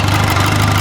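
A loud, steady low rumble of a car engine idling close by, with a constant hum and no variation over the brief moment.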